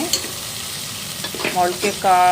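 Drained sprouted legumes tip into a hot pan for sambar, setting off a brief clatter and then a rising, loud sizzle that grows stronger near the end.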